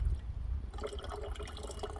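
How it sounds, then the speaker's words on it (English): Liquid trickling and splashing as it is poured slowly through a piece of cloth used as a filter during gold recovery from rolled gold watches, a steady close, soft flow with faint drips. "you can pour it through, yeah, just a piece of cloth, filter out the bigger bits"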